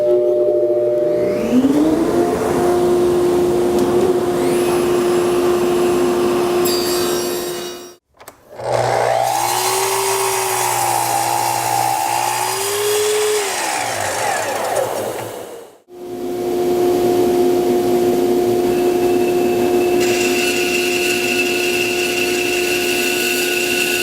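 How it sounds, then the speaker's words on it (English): A table saw squares off wooden stock for bed legs, its motor humming loudly and steadily, with two short dips where the blade slows before the cut noise resumes for another long stretch. "So all I'm going to do is square this stock off at the table saw."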